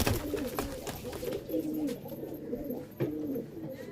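Pigeons in a loft, including a feather-cut cross pair, give steady low cooing rumbles in quick repeated phrases. A few sharp taps and knocks break in, and the whole sounds fairly faint.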